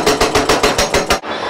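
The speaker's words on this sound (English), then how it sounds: "we'll take the big hydraulic hammer and break our way down, chisel our way down to try to get underneath this quartz" A big hydraulic hammer chisels hard rock and quartz above an emerald vein, loud and close, delivering a rapid series of about eight evenly spaced heavy blows before stopping abruptly, with a lingering mechanical hiss.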